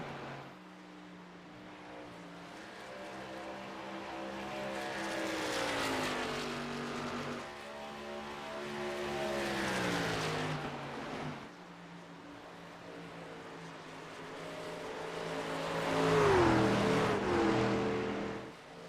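Race cars at a restart on a South Carolina track, engines rising in pitch as they accelerate through several swells, a roaring pack sound that grows louder and fades, with no voices.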